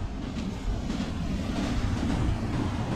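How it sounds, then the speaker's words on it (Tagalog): Strong ocean waves roll onto the shore at Dingalan, a low rumbling wash of surf with wind buffeting the microphone, steady and fairly loud with no voices. "Grabe yung alon dito"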